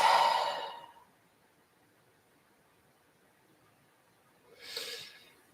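One deep breath is drawn in close to the microphone, a loud breathy rush followed after a quiet pause by a softer, slow exhale, with no talking.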